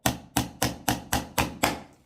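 Seven evenly spaced, sharp hammer strikes drive a nail into wood during a woodworking lesson on nailing at an angle, each blow ringing briefly and decaying before the next, loud and close with no talk.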